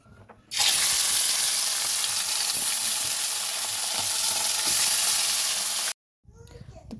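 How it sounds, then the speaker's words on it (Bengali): Koi fish coated in turmeric and salt fry in hot soybean oil in a wok, a loud, continuous sizzle that breaks off near the end before faint clatter returns. "কই মাছগুলোকে হলুদ লবণ দিয়ে মেখে নিলাম। মেখে আমি ভেজে নেব।"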